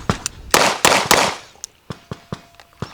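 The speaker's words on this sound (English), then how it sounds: "Okay, 2 shots now." Pistol shots from a Staccato P at a range: a few loud, sharp cracks close together, then a string of quieter, evenly spaced reports, with no speech over them.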